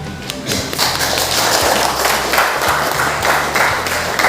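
A classroom of students applauding a presenting group, a dense burst of many hands clapping at once, loud and close, sustained for several seconds with a few heavier thumps.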